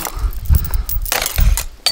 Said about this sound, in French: je sais ouvrir une bière avec à peu près n'importe quoi